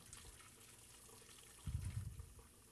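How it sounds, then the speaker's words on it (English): Cold water runs into a sink as food is rinsed, a low steady splash that swells louder and heavier toward the end of the short stretch. "Rinse in cold water, drain well."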